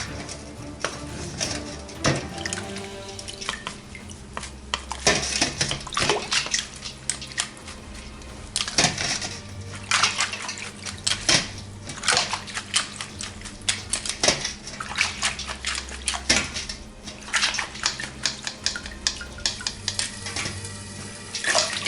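Running water rinses crispy vegetables in a bath of water in a home vegan kitchen, an uneven splashing and dripping stream with clattering bursts throughout, close and fairly loud with no talk.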